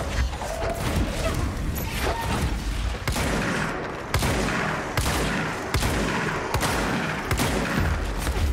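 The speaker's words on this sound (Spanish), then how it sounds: "Tantos disparos que le metí en la cabeza, se cayó abajo" Gunfire in the video game Control, with dense bursts of shots and crashing impacts across the whole stretch at moderate loudness, alongside game sounds and no clear speech.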